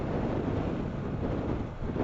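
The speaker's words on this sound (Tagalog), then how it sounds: "grabe yung hangin" Strong wind in Prieto Diaz, Sorsogon, near the national high school, roars steadily into the microphone as a dense, unbroken low rumble.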